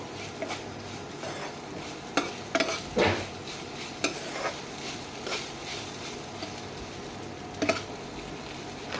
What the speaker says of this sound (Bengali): দিয়ে দেবো পাস্তা দিয়ে ভালো করে আমি নেড়ে চেড়ে নেবো